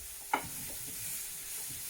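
Chopped asparagus stalks and tips with mixed vegetables sizzling in a pan, a steady soft hiss with one brief clatter near the start.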